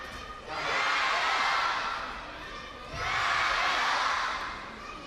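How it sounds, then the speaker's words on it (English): A sports-hall crowd at a University Games team match between China and France cheers for the home side, with two broad swells of roaring that rise and fade, heard at a distance. "The crowd are doing their best to get behind the home team."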